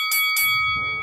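Two quick bell strikes ring out close and clear, each with a bright metallic tone that lingers, followed by low background murmur.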